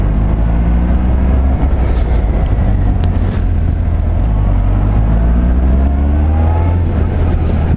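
A BMW K1600 GTL motorcycle passes by on the road, its engine note rising and falling steadily beneath continuous heavy wind and road rumble from a moving rider's microphone.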